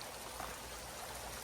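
Creek water in the American countryside flowing steadily, a soft continuous rushing and trickling wash heard faintly and evenly throughout with no talking.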